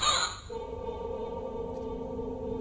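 A crow caws in the sewer level of the roguelike video game Spectral Mall. One short, harsh call sounds at the very start, then sustained tonal game music carries on.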